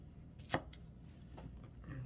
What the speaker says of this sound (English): Flip it around, cut it into squares.